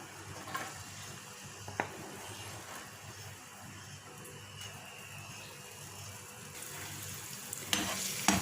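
Finely chopped potato frying in lightly heated oil in a pan, a soft steady sizzle that runs the whole time, quiet and close, with occasional clinks near the end.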